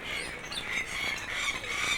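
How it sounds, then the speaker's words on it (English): A dense chorus of squawks and calls from a flock of scarlet ibis, continuous and overlapping, at moderate distance. "And here we have a flock of scarlet ibis."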